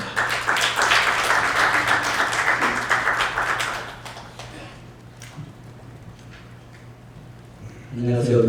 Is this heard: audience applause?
yes